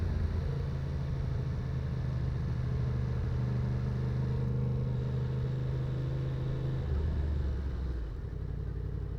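A 2024 Yamaha MT-10 motorcycle is ridden with a steady, loud engine drone and wind rumble throughout, with pitch shifting slightly near the end as the revs change.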